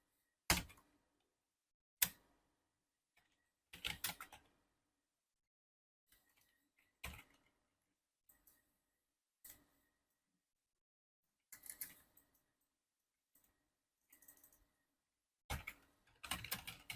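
Keys clack on a computer keyboard in short separate bursts of typing with quiet pauses between them, close and fairly soft, with no talking.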